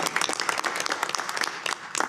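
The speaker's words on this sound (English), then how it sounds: "Let's give Mr. Johnson a round of applause as well" Audience applause at a school board meeting, a dense, steady patter of many hands clapping close by, filling the whole brief stretch with no talk over it.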